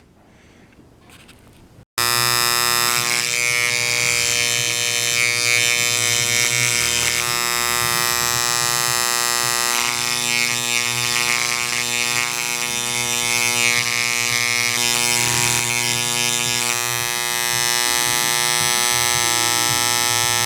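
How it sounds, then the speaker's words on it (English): A wire wheel cleans parts for a GMC Jimmy 4.3L engine build, starting abruptly after a quiet moment and then holding a loud, steady, high-pitched whine with buzzing and grinding throughout. "One of my favorite things to use when I'm cleaning parts is the wire wheel."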